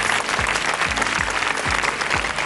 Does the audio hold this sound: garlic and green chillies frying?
no